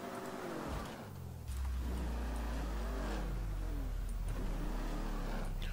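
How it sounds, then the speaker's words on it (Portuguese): A loud muscle-car engine revs in Grand Theft Auto V, likely the Dominator, first idling low, then rising into a sustained roar with pitch sweeping up and down as it accelerates, with no voices. "O barulho desse carro aqui deve estar no barulho do Dominator"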